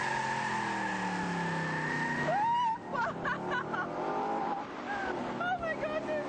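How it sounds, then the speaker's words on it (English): A Redback Spyder sports car capable of 0 to 100 km/h in about four seconds roars as it accelerates hard, with the engine note rising and then shifting through gears, loud and close from inside the car. "Nick tells me that it goes from 0 to 100 in just 4 seconds"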